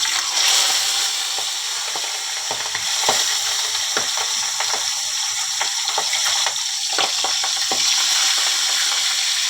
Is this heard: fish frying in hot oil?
yes